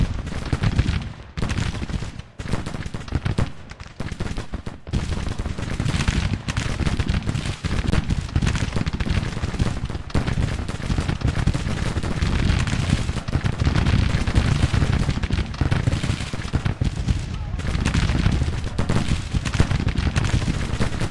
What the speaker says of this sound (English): This battery starts firing.